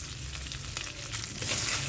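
Soft, steady frying sizzle of spices with turmeric and a little water in a kadai, with occasional scraping stirs, fairly quiet and continuous throughout.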